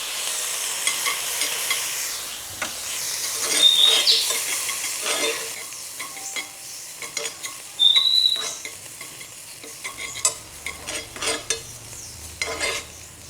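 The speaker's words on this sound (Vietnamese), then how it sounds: "mình sẽ bắt một chảo dầu và cho một ít tỏi tăm vào đây nha" Garlic fries in oil in a pan, sizzling and crackling with irregular pops and spatters, plus scraping and stirring noises, no talking.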